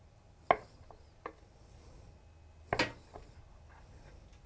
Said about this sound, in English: You're going to take a knife and you're going to cut it into quarters.